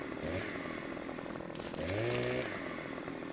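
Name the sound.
chainsaw in Farming Simulator 15 video game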